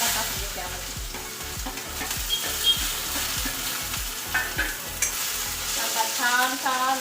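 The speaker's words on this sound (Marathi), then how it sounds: "हा कांदा चिरून घेतलेला कांदा टाकून घेते आम्हाला" Chopped onion sizzles and fries in a pan with a steady crackling hiss, stirred with repeated scraping and clinking strokes, close and continuous over faint background sound.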